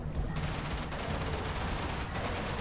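An enemy ship's main cannon in the space shooter game Everspace fires in a rapid, dense barrage of loud blasts that fills the short stretch continuously, with no talk over it.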